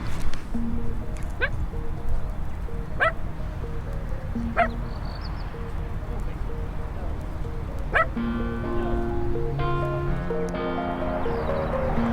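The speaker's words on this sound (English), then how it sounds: "There's a little dog barking." A small dog barks in short, sharp yips spaced a few seconds apart, fairly distant, over a steady hum and some tonal background sounds.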